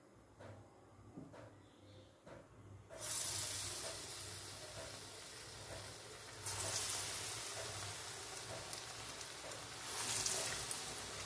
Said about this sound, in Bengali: 2 রকম তেল মিশিয়ে ভাজবে।